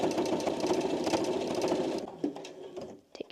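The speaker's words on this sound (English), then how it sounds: "So you're going to sew all the way down" A sewing machine runs steadily while stitching a cloth napkin, a close rapid mechanical whir that stops after two seconds, followed by a few soft handling clicks.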